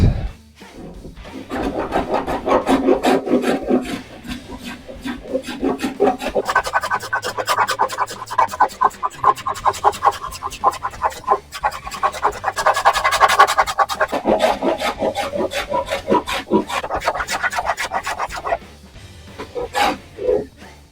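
A hand tool shaves oak against the grain for a desktop, making a rapid, rhythmic rasping scrape with repeated strokes, close and fairly loud, continuing steadily with brief pauses.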